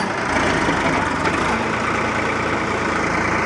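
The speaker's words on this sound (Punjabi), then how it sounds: "ਝਟਕੇ ਮਾਰਦਾ ਟਰੈਕਟਰ ਝਟਕੇ" A tractor hauling soil trolleys runs nearby, its engine a loud, steady low drone that carries without pause.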